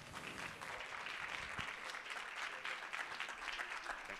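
Applause at a film festival press conference, a steady patter of many hands clapping, fairly faint and sustained throughout.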